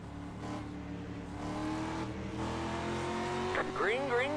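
Race car engines in the iRacing sim game go to full throttle on a restart, the engine note climbing steadily in pitch and growing louder, ending in a sweeping, wavering whine.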